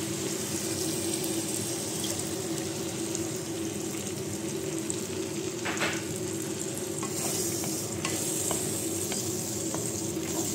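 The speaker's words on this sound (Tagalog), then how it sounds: "Ilagay naman natin ngayon ang ating toyo." Green beans sauté in a pan as soy sauce goes in, a steady loud sizzle and frying hiss running throughout, with occasional clinks of a utensil stirring near the end.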